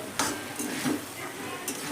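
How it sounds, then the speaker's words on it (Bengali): Pumpkin curry being stirred in a pan with a roasted spice mix, giving soft scraping strokes over a low, steady sizzle, close and moderately quiet, with no talking. "ভাজা মশলা দিয়ে হালকা নেড়ে নেব"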